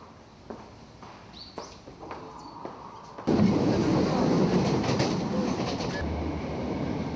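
Tokyo subway train riding, a steady loud rumble and rattle of the carriage that swells suddenly partway through and then holds, with faint clicks and squeals above it, no voices.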